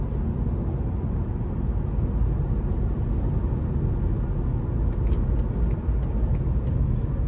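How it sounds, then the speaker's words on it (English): Steady low road rumble and tire noise fill the cabin of a 2017 BMW 530i with a 2.0 turbo four-cylinder on the move, a constant muted drone with no voices, a few faint high ticks late on. "Road noise I can hear just a tad, but the ride quality is very plush."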